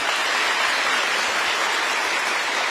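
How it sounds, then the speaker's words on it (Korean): Steady, dense applause from an audience of newly appointed civil servants meeting the South Korean president, a continuous even patter of clapping filling the room. "박수 부탁드리겠습니다"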